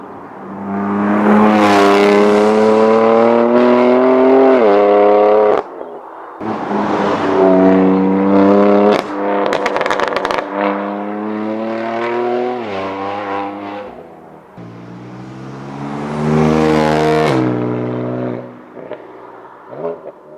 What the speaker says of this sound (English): Why don't we take it on the road, see what it sounds like.